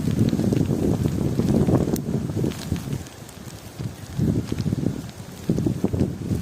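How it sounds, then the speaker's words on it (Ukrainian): Wind picks up outdoors, buffeting the microphone in rough, rumbling gusts that surge and ease in waves. No one speaks. "вітер піднявся"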